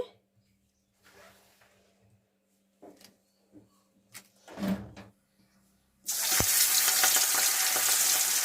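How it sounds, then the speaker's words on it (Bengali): Scattered kitchen clatter and shuffling, then a sudden loud, steady sizzle as rohu fish hits hot oil and keeps frying. "মাছ ভাজা হয়ে গেল আমার"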